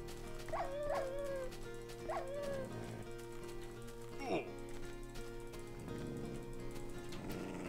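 Dogs in the Minecraft video game bark a few sharp times close by, then let out a short whimpering yip over a steady hum of game background sound.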